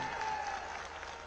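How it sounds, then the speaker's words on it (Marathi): Crowd at a political rally breaks into brief, dense applause, many hands clapping at once at a steady level, heard for just over a second. "इथे तुमचं पण वाशिमवाल्यांना जोरदार टाळ्या वाजवा"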